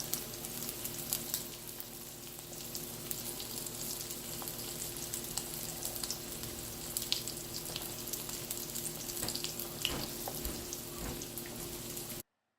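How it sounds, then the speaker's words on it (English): Chicken sizzles and crackles steadily in a hot pan, a continuous hiss dotted with small pops, close and fairly quiet. "That's what it's supposed to sound like, folks. Frying is good."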